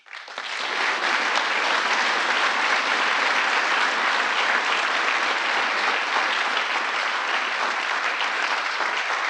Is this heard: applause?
yes